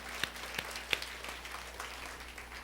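Scattered clapping from a church congregation during a sermon, a few distinct sharp claps standing out over a low, faint hum of hands and room noise.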